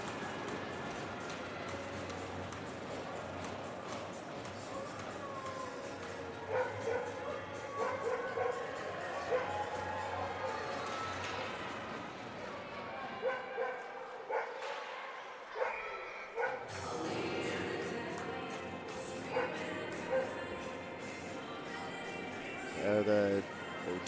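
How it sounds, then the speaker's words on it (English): Several yips and barks come from a dog a few rows into the stands at a women's college ice hockey game, only moderately loud and mixed into crowd noise under an announcer's commentary. "The dog that's just a couple rows in front apparently doesn't like all the noise."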